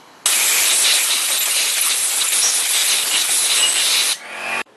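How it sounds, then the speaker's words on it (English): A strong, steady jet of compressed air blasts through a 1985 Honda CB450 carburetor, a loud continuous hiss lasting about four seconds, then a brief weaker burst before it cuts off; no talking. "Now we're going to use compressed air and blow out every stinking nook and cranny and hole that we can find in this bad boy"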